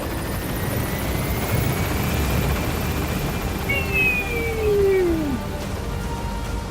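A steady helicopter rotor drone in Metal Gear Solid V: The Phantom Pain fills the scene, constant and loud, with a rising whine of engine tones shifting in pitch partway through.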